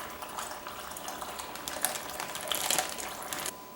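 Water is poured into a plastic bag resting on homemade sauerkraut as a weight, giving a steady close splashing and trickling wash that runs for a few seconds and then cuts off, with no talk.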